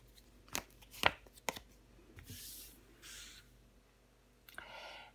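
Tarot cards handled and laid out on a table: a few sharp close slaps and snaps of cards, then soft sliding and brushing swishes, quiet and unaccompanied by talk.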